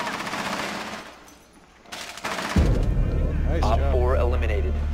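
Automatic gunfire in a Rainbow Six Siege team deathmatch round on the House map, with sharp bursts first and then a louder sustained rumble as voices talk over the action.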